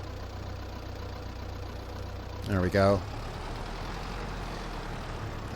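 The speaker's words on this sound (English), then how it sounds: "Tractor didn't want to take off immediately." A tractor engine in the farming game Farming Simulator 22 holds a steady low droning hum through the whole stretch. Someone speaks briefly in the middle.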